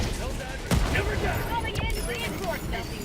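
Enemy ship strafing gunfire in the video game Helldivers 2, with rapid bursts and booming impacts over a dense battle din, a loud crack near the start and another sweep later, while a voice speaks over it.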